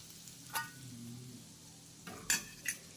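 Shankarpali flour being mixed with hot oil using a spoon in a bowl, a few short scraping clinks alone over low background noise.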